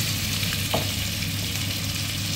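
Small frozen ipon fish sizzling in a pan, a steady loud frying hiss with a faint stir or clink partway through and no talking.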